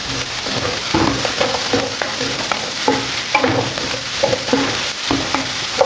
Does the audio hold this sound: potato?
yes